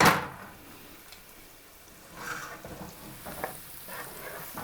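Gnudi simmer and sizzle in a pan of sauce, giving a soft, steady frying hiss with a few brief louder bubbling bursts and light stirring scrapes.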